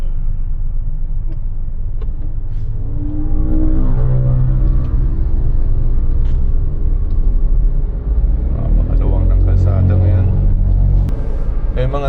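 A 2025 Suzuki S-Presso AGS hatchback idles in neutral on a city street, a low steady engine rumble with a faint hum that shifts slightly in pitch. The driver talks over it throughout.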